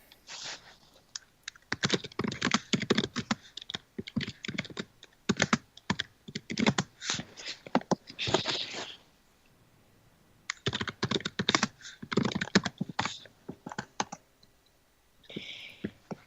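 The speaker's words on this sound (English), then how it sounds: "But finish what you were typing." Typing on a computer keyboard during a tabletop Dungeons and Dragons game: rapid, close key clicks in bursts of several seconds, broken by short quiet pauses, with no talk.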